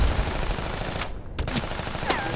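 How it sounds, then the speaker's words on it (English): Machine gun fire in a claymation horror short plays as a dense, continuous crackle of rapid shots with a few sharper bursts standing out, loud and close throughout, with no talking over it. "Worry about the machine gun."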